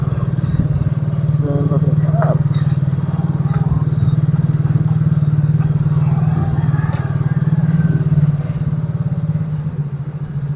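A Suzuki Smash 115 motorcycle engine fitted with an aftermarket exhaust pipe putters steadily close by with a low, throbbing drone, while people talk over it now and then.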